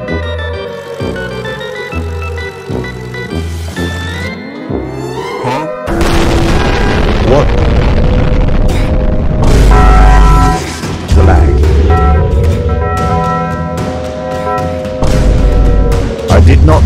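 A nuke detonating in the Roblox game Walk to School in Ohio, a loud, booming blast erupting about a third of the way through and rumbling on under excited voices and game tones.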